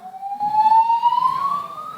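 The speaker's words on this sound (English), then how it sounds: "we set off the fire alarm" A fire alarm sounds indoors, a single rising electronic tone sweeping steadily upward for about two seconds, clear and fairly loud with a faint murmur beneath and no talking.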